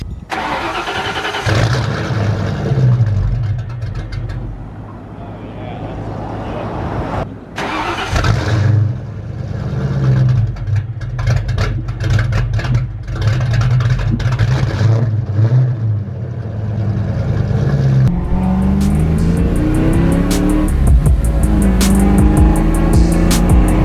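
A Foxbody Mustang engine that burns oil starts and runs at low revs with a deep, lugging rumble, rising and falling in effort as it pulls, close and steady throughout.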